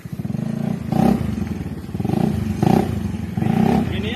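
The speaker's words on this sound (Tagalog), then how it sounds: "Gini-up ng Click" A Honda Click version 3 motorcycle engine revs loudly and close, surging up and down in repeated bursts with a rough, buzzing drone that never fully drops off.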